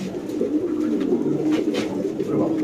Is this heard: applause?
no